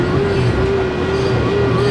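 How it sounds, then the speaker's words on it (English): A train rumbles past close by, a steady loud roll with a sustained tonal hum running through it for the whole stretch. "Got the train"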